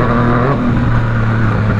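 Yamaha MT-09 motorcycle engine on a test ride, a loud steady close engine drone with a constant low hum, brief and alone.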